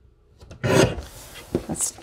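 A paper trimmer slicing through a sheet of paper, a short close scraping swipe followed by a couple of lighter rasps, quiet and brief.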